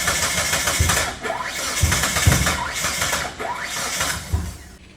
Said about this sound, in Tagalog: Nag-i-start siya pero ayaw siya mandar.